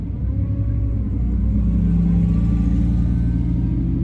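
A Nissan GT-R at a drag strip suffering valve float, its engine a loud, steady, low rumble heard up close with no talk over it.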